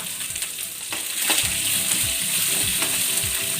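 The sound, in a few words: sautéing garlic, onion and chilli in a pan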